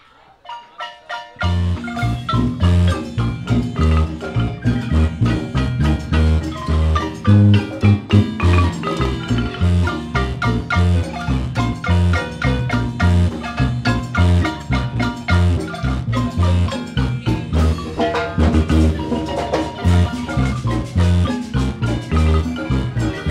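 A melody is played by an ensemble for a wedding celebration in San Ildefonso Ixtahuacán, Huehuetenango. After a brief quiet start it becomes full, loud and continuous, with a busy rhythmic pulse and bright sustained tones.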